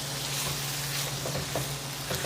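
Ground beef and jasmine rice sizzle softly in a pan as they are stirred together, a quiet, steady crackle with faint scraping throughout.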